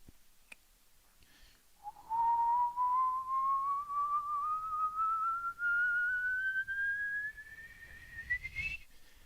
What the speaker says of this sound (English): I'm going to do a little dramatic whistle.